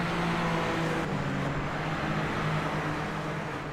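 Race cars in a sim racing game braking hard into an S curve, a steady dense roar of engines with downshifting tones, loud and continuous with no clear speech.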